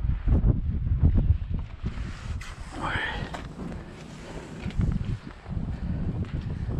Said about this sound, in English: the wind blew my glasses down there